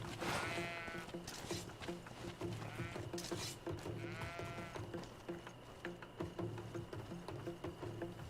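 Goats bleat repeatedly in wavering cries in the video game GreedFall, over a constant background hum and clatter, several animals calling one after another.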